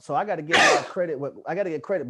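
A sharp, breathy sneeze bursts out once, close and loud, in the middle of a man's speech about college football.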